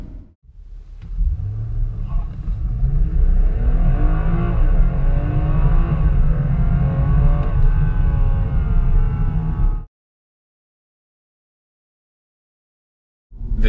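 A 2017 BMW M240i engine revs up hard under acceleration, a loud, close rumbling roar that builds and climbs in pitch for about ten seconds, then cuts off into silence.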